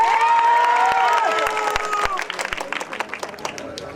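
Audience applause and cheering fill a mall cinema as a crowd greets film star Tovino Thomas and the Pallichattambi team, loud dense clapping that thins into scattered claps with voices beneath.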